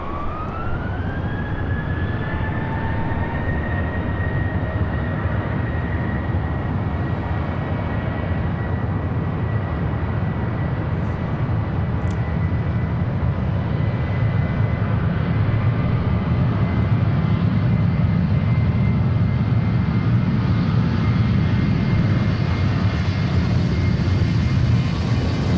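Blue Angels jet aircraft taking off at Boeing Field, with a loud, continuous roar whose high whine climbs at the start and then holds steady, heard from close by.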